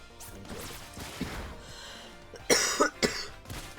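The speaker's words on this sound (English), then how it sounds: "Sorry about the coughing." Someone coughs several times in quick succession, close and harsh, after a quieter stretch of muffled movement.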